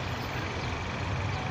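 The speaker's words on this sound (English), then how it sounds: "sorry for the car noise there." Steady close engine and road rumble from a car, a constant broadband roar with no talk over it.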